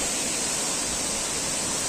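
Bambarakanda waterfall, Sri Lanka's tallest, pouring into a natural pool below, a loud, unbroken roar of falling water filling the whole clip with no voices.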